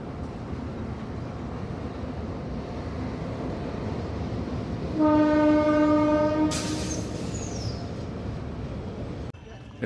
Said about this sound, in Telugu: గోదావరి ఆర్చ్ బ్రిడ్జ్ మీద ట్రైన్ వస్తుందో చూడండి.